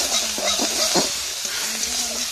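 Fish frying in oil in a pan while curry is being made, a steady broad hiss and sizzle with faint stirring clinks and some voice-like tones under the frying.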